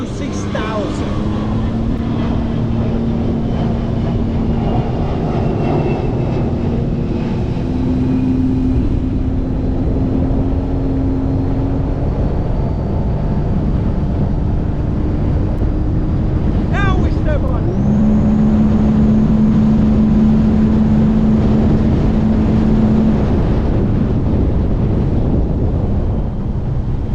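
A Sea-Doo RXT-X personal watercraft with a Calas Performance Stage 1 setup, its engine droning loud and steady in sport mode, pitch rising and holding under heavy wind buffeting and water rush.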